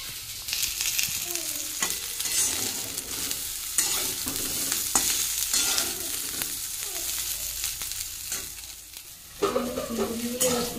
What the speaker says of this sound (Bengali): এই যে ফুলকপি ভাজা হচ্ছে, লাল লাল করে ফুলকপিটা ভেজে নিচ্ছি।